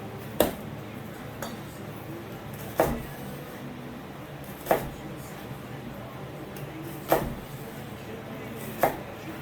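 Kitchen knife chopping vegetables for chili on a board, five sharp spaced thuds about every two seconds over a low background hum.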